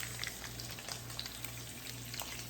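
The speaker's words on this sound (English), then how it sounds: "I am dropping sausage" Sausage sizzling steadily in a frying pan for a southern fried cabbage dish, a dense continuous crackle with scattered pops and a low hum underneath, close and fairly loud.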